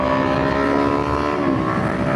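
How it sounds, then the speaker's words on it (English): A Kawasaki Ninja 500 motorcycle revs steadily in fourth gear while ripping along country lanes, a loud, close, continuous engine drone with strong tonal harmonics, a brief dip in pitch near the end and wind rush underneath, with no talk. "4th gear, just ripping through these lanes right now."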